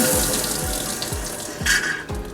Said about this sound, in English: Then you turn the water on, and you're all set to go.